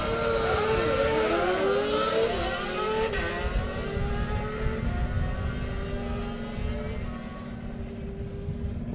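A 950 drag racing motorcycle launches down the strip at the Summer Nationals, its loud engine rising in pitch through the gears, then receding as it pulls away, with a steady low drone underneath.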